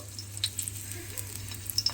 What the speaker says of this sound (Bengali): এভাবে লাল করে ভেজে নেব